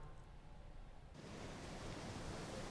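Ocean waves surge onto an eroding beach at Gangneung, a broad rushing wash of surf that swells suddenly partway through and then holds as a loud, steady roar with no voices.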